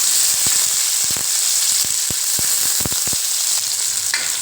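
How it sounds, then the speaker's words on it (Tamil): Small shallots fry in hot oil, giving a bright steady sizzle peppered with sharp spatters and pops at irregular intervals, close and fairly loud with no talking. "இப்போ நான் ஒரு சின்ன கைப்பிடி அளவு சின்ன வெங்காயம் வந்து குட்டி குட்டியாக கட்டி வச்சுருக்கேன் அதை இது போட்டுக்கலாம்"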